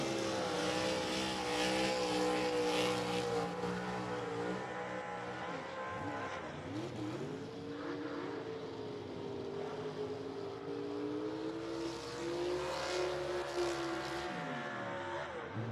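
Drag race cars, including a '55 Chevy and a '65 Nova, run at Rockingham Dragway, with loud sustained engine roar and shifting pitch as revs climb and fall across the run, heard from nearby.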